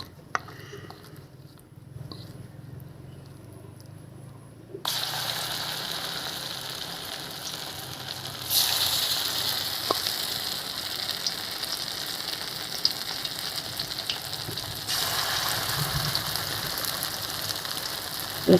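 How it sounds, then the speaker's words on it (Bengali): Jute leaf fritters fry in oil in a village kitchen. A soft hiss starts, then a loud, broad crackling sizzle jumps in around five seconds and continues steadily, rising again later. Close and continuous, with no talk. "এই তেলে এখন ভাজবো"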